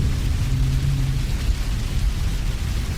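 Heavy storm rain hisses constantly under a deep, rolling thunder rumble in the Shut Out The Storm 4 horror game, a dense wall of low noise with no pauses.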